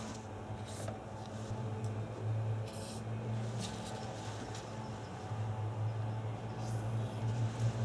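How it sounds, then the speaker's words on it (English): Short hissing bursts of PB Blaster penetrating oil spray onto strut fasteners come in several quick spurts over a steady low mechanical hum. "I'm going to spray these down with some PB Blaster."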